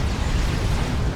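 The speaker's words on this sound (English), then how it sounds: "It's the sound of an Executioner heavy turret." Continuous heavy booming and rumbling from an Executioner heavy turret in Dawn of War 2, a dense barrage of low explosive blasts with no pauses, loud and sustained like rapid heavy weapon fire.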